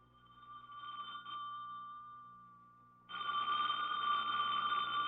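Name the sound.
telephone ringing in a radio drama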